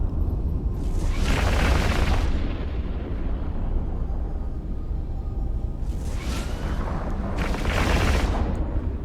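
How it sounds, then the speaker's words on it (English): Missile launches and gunfire from a Svipul ship in the EVE Online space game, a continuous loud rumbling barrage with three sharper whooshing bursts rising above it, no talk. "the combination of missile and gunfire as we close on this target"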